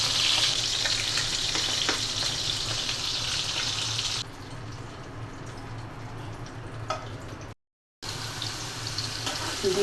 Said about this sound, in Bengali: আর গরুর মাংসের টিকিয়া ভাজা হচ্ছে।